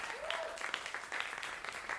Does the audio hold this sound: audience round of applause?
yes